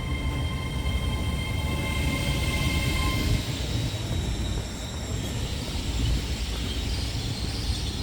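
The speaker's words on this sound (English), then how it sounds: "And here's our train, the Trans-Pennine Express today." A Trans-Pennine Express passenger train arrives at a station, rumbling steadily nearby with a low continuous roar and faint high whine, holding at a constant loudness throughout.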